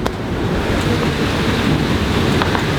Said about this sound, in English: Like, you've got the white caps and small waves